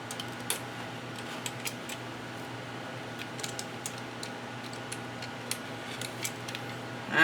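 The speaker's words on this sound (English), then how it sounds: "now I'm just going to cut the corners" Scissors snip the corners of DIY journal cover material, a series of brief crisp clicks and cuts close by over a quiet steady hum, ending in a louder rustle.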